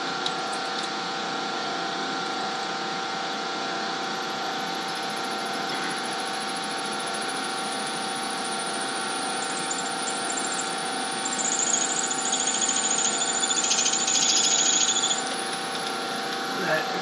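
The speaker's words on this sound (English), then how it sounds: "if you hear that chattering noise, that's a good sign to back up your drill" A drill chatters while boring into bronze in a metalworking shop, a steady high grinding whine that grows harsher and more rattling toward the end, with a person talking over it.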